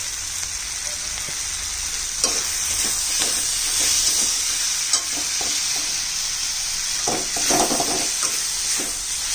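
Ginger paste and cumin powder fry in a pan with green chillies, giving a continuous loud sizzle with repeated spatula scrapes and stirring clatter throughout, and no talking.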